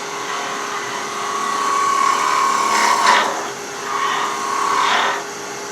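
Wooden mallet being shaped on a woodturning lathe, with a steady whirring drone as the tool cuts the spinning wood and louder rasping bursts as it bites in, close and without talk.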